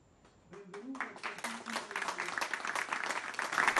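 Audience at an inauguration ceremony for new judges and prosecutors in Catanzaro breaking into applause, a few scattered claps swelling into steady sustained clapping in a room, with a voice speaking over the start.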